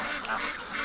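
Ducks quack in a farmyard setting near a barn and metal shed, a short faint burst of overlapping calls.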